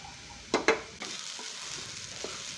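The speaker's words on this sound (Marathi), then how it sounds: "पुन्हा एकदा नीट परतवून घेतले." Sabudana and diced potatoes being stirred and sautéed in a pan, with two sharp spoon scrapes followed by a steady soft sizzle and a few lighter stirring clinks.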